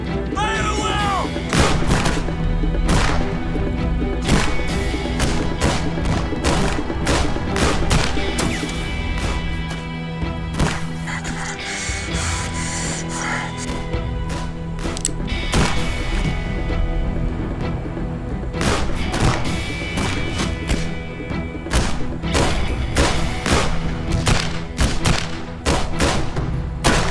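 A rifle volley rings out in a western film battle, with repeated loud, sharp gunshots and booming thuds crackling through a dense, continuous soundtrack of music and effects across the whole stretch.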